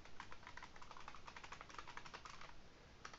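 Quiet, rapid clicking of keys as someone types on a computer keyboard, an even patter of soft taps lasting a few seconds with no voice.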